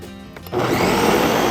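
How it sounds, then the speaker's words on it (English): A blender whirs into a loud, steady high-speed grind after a short quieter start, blending roasted tomatillo salsa with cumin, salt and lime, running continuously up close without talk. "We're going to give it one last blend for about 20 more seconds"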